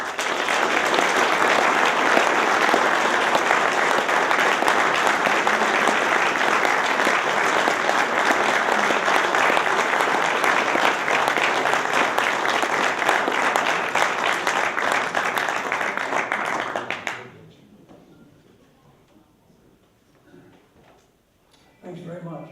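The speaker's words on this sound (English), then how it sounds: "Let's give a warm round of applause to our good friend," A large audience at a First Amendment education event gives a warm, sustained round of applause for about seventeen seconds, dense and loud, then it cuts off abruptly into near quiet with faint room noise.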